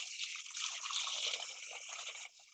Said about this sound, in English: and I'm going to fill it with some water